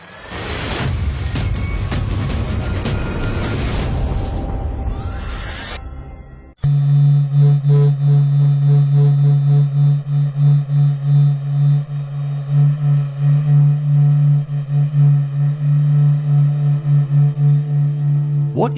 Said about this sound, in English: What you just heard is the heartbeat of the Sun, captured by NASA's Solar Heliospheric Observatory.